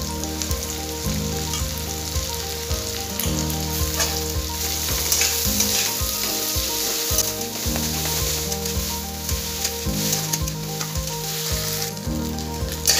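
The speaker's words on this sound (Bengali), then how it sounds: "এবার আমি মাছগুলো দিয়ে দিলাম, কাটা ছাড়ানো মাছগুলো দিয়ে দিলাম" Latha fish, deboned, fries in hot oil with already browned onions, a loud, steady sizzle that crackles continuously, with regular stirring scrapes and knocks against the pan repeating through the whole stretch.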